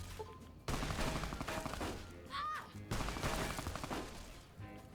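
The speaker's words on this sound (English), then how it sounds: "Turret shooting there." A turret in a video game fires bursts of gunfire, loud dense volleys broken by short pauses, with a brief whistling streak in the middle.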